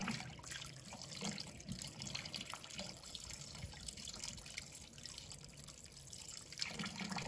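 Pork liver is rinsed under running water from a kitchen tap, making a soft, steady flow with light splashing and spattering that stays quiet and continuous throughout.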